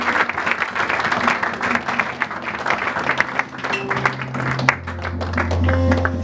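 A church congregation applauds during a Sunday service, a dense, sustained burst of clapping from a large crowd that fills the room throughout with no clear speech.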